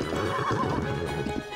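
A horse in Zelda: Tears of the Kingdom gives a loud, close whinny over a rhythmic clip-clop of galloping hooves, brief and continuous with no voices.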